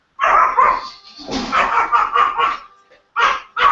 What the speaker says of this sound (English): You were barking